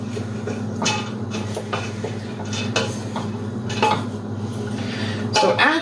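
Vegetables get stirred in a cooking pot, the spoon scraping and clinking against the metal in uneven strokes over a steady low kitchen hum.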